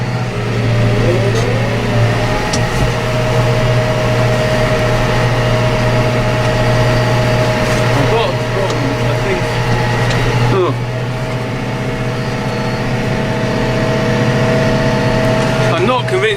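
A McCormick tractor engine runs steadily throughout, a loud, close droning hum with a brief dip in pitch and level partway through, while the machine sits out in a field at mowing time.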